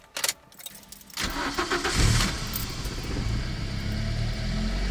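A Toyota Corolla E12 engine cranks briefly and catches, starting for the first time and settling into a steady, loud idle close by.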